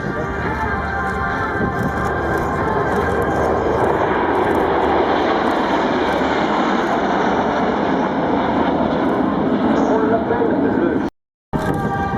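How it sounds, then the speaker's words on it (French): Patrouille de France jets in Concorde formation pass at an airshow at Florennes Air Base, producing a loud, sustained, rumbling jet roar that holds steady for about eleven seconds before cutting out abruptly. "le passage en formation Concorde de la patrouille de France 2012"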